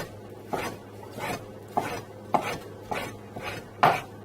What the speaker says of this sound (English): we can just put it this way and then cut it into small dices